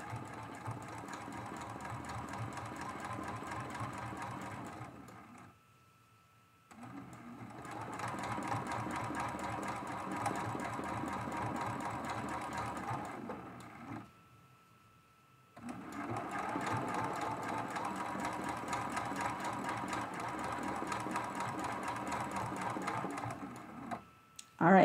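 A sewing machine free motion quilting a mug rug design, three long runs of rapid steady needle chatter separated by short pauses, fairly close and moderately loud.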